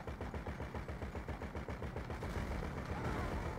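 Rapid automatic gunfire from an armed Boxville van in GTA V, a loud, dense stream of shots repeating in a steady fast rhythm throughout, with engine and game noise underneath.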